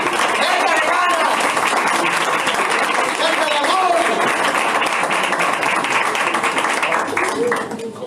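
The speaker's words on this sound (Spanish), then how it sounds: "Fuerte el aplauso." Church congregation applauding during a sermon, a dense steady wash of clapping throughout with a preacher's voice and shouts riding over it, fading slightly at the end.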